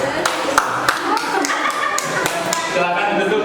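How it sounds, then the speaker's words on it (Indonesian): Group of people clapping in a classroom presentation setting, a string of sharp, uneven claps over a few seconds, close by, with voices murmuring underneath. "Ya silakan tepuk tangan."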